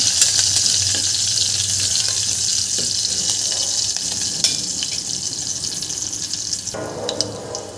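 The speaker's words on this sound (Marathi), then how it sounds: "मिरच्या घालून घ्यायच्या आहे आपल्या मिरच्याला छान दोन मिनटं परतून घ्यायचं आहे" Green chillies fry in a pan with a steady, close, crackling sizzle that carries on without a break. Louder spatters pop out here and there.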